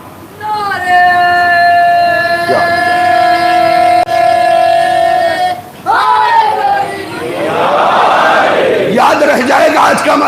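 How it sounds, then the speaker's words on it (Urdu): A crowd at a Muharram majlis chants slogans together, with loud sustained voices rising in unison, a brief break, and then a swelling collective roar, all close and powerful. "نعرے"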